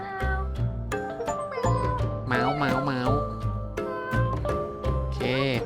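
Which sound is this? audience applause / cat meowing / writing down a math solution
cat meowing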